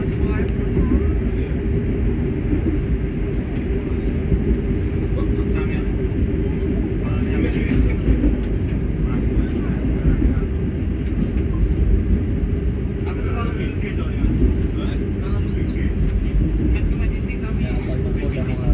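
A steady low rumble of the Malabar passenger train rolling along the tracks in Indonesia, constant and loud throughout, with faint rattles and clacks on top.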